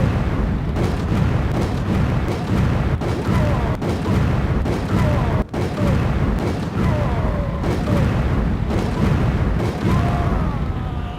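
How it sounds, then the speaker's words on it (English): Rapid repeated shots of flame rounds fired at a Big Man Majini in Resident Evil 5, a dense rhythmic series of loud cracks and bursts with sizzling fire beneath. "Now let's try flame rounds."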